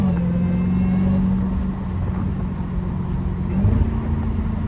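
A Dodge Hellcat drives along with its engine giving a steady, heavy low rumble and drone heard from close by, with a slight swell near the end.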